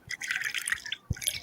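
Water drips in a quick, irregular patter of bright, close droplets, with a short pause before a louder splashy drop and a few more drips.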